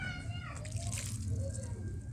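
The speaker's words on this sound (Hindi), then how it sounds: "इसके ऊपर ही मैं थोड़ा पानी पोर करके जा रही हूँ ताकि ये पेस्ट बन जाए" Water pours over clay in a pot to soften it into a paste, a steady sloshing, trickling wash that carries on throughout, with faint voices in the background.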